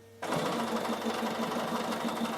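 Bernina sewing machine stitching a zigzag wool appliqué for a draught stopper, starting abruptly and running as a continuous, fast, even mechanical whir with a rapid stitching rhythm, close and steady.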